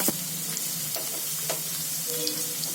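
Sliced onions fry in a pan for mutton bhuna masala, a steady close sizzle and crackle with a few soft stirring scrapes and pops.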